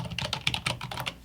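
Someone types a file name on a computer keyboard, a quick burst of quiet, close keystrokes with irregular rhythm and no talking.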